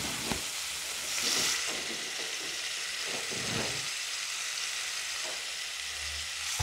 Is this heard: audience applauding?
no